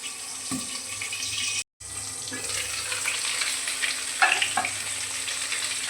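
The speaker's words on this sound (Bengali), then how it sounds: "মাছের ডিমটাকে এপিট ওপিট করে ভেজে নেব।" Whole fish roe seasoned with salt and turmeric fries in a covered pan, giving a steady close sizzle with a few soft clinks and a brief dropout partway through.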